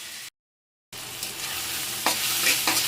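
Gurugaku greens fry in a pan with a bright, steady sizzle and stirring scrapes after a brief silent gap at the start, louder spatter bursts near the end.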